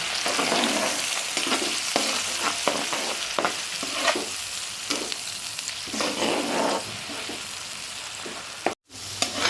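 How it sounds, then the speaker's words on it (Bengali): Onion paste fries in hot oil in a pan, a continuous close sizzle punctuated by rhythmic scrapes and taps of a spatula, with a brief cut near the end and no speech. "এটাকে ভালো করে আমি ভেজে নেব।"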